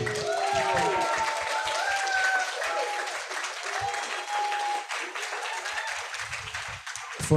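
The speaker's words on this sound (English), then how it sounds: "How about another round of applause" At an ACI anniversary reception, an audience breaks into sustained applause, dense and steady at moderate volume, with a voice speaking over the clapping near the start.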